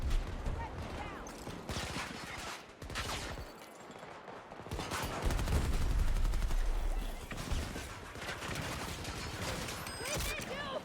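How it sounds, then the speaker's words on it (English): Gunfire in the video game Battlefield 2042: dense, loud bursts of automatic fire and scattered shots that overlap continuously through the whole stretch, with shouted voices mixed in. "They're shooting at me!"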